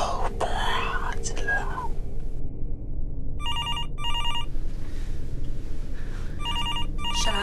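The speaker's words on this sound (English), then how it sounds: "Shall I answer it? No. Leave it alone. I don't trust that phone." An electronic telephone ringer sounds in repeated bursts, two quick rings, then another pair, clear and close amid faint whispering voices and background noise.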